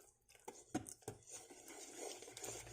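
Keto choco butternut cake batter being mixed in a bowl: soft, irregular taps and scrapes of a utensil, then a faint continuous swishing, close but quiet and with no talking.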